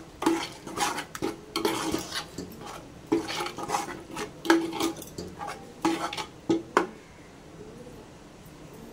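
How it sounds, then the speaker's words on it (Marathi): Chopped tomatoes stirred and fried in masala for a chana gravy, heard as repeated metal spoon scrapes and clinks against a pan over a low, steady sizzle, close and fairly loud. "ती 2 मिनिट आपल्याला ह्या मसाल्यात फ्राय करून घ्यायची"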